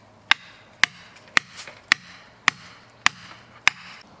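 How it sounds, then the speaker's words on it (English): A steel wedge is driven into a palm tree cut during tree felling, seven sharp, ringing hammer blows at a steady, unhurried pace, close and distinct over faint outdoor background, with no speech. "I'm going to take this wedge right here, and we're going to just pound it in until we hear a nice little ring"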